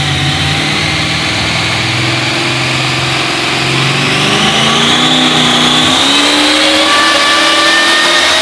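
A Dodge Charger built as a Fast & Furious replica runs its engine in a steady, loud drone that holds throughout, with slight pitch shifts suggesting the idle rising and settling.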